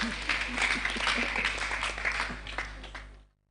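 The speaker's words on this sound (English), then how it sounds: "let's clap for her for the question." Audience applause at a girls' camp opening ceremony, a fairly steady patter of many hands with a low hum underneath, fading out abruptly near the end.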